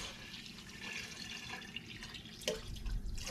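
Whey from raw-milk farmhouse cheddar curds pours into a pot, a soft continuous liquid splash and trickle with a brief louder splash near the end, close and fairly quiet.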